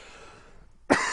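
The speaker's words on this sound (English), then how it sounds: "came back from a coughing fit" A single harsh cough bursts out near the end after a quiet stretch with faint background sound, close and loud.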